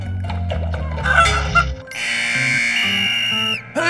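Cartoon chickens cluck and squawk in quick, busy bursts on an ice hockey rink, layered over music with a bright sustained tone in the second half.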